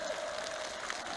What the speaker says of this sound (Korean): 열광적인 만세 환호를 올리고